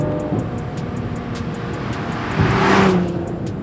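A Nissan GT-R 50th Anniversary Edition driving through a quick turn, a steady engine drone from inside the car with tonal engine notes rising briefly near the end, moderately loud and without talk.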